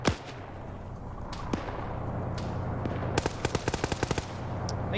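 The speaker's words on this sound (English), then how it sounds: "only for Joker to get sniped out by Major Khan back here" Gunfire in an Arma PvP match: a steady wash of battle noise with a few isolated sharp cracks early on, then a rapid string of loud shots near the end, with no talk.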